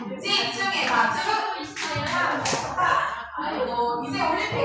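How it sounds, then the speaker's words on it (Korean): A seated conference audience bangs out a quick, rhythmic patterned 'focus clap' in unison, loud and close, with brief gaps between the clapping phrases. "집중해 박수."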